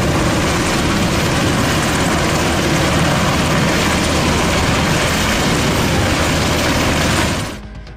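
A coast guard helicopter roars loudly and steadily with dense rotor and engine noise, then cuts off abruptly near the end.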